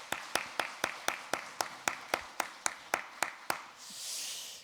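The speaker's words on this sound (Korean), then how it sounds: "그런 의미로 다시 한번 박수 한번 하시겠습니다." Korean church congregation at a Sunday afternoon service clapping together in unison: about a dozen crisp, evenly spaced claps in a steady rhythm, followed by a soft hiss as the clapping stops.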